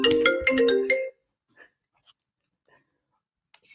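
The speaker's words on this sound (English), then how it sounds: "my phone rang" A mobile phone ringtone sounds a bright, loud melodic jingle for about a second, then falls to near silence broken by faint clicks and a short hiss.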